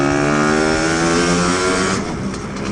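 A 333cc Lambretta CP scooter accelerates hard out of a corner, its loud, rising two-stroke engine note climbing steadily before easing off near the end, with no talking.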